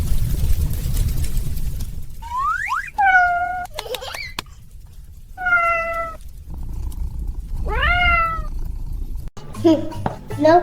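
A kitten gives several clear, rising and falling meows, near and fairly loud, spaced across the clip, while a baby and an adult make soft sounds and talk in the background.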